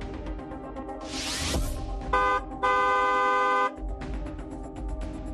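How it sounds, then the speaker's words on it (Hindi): A car horn honks in several sustained blasts, loud and close, with traffic noise rumbling underneath. "दूसरों को भी सावधान करने के लिए हॉर्न बजाएं।"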